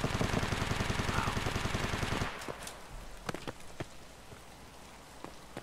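Heavy automatic gunfire in the video game Escape from Tarkov, a loud sustained rapid burst that cuts off into scattered distant single shots and faint clatter.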